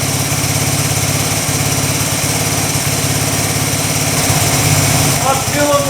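A 1982 Yamaha XT200 single-cylinder motorcycle idles steadily after a cold start, a loud, close, rapid putter that runs unbroken throughout.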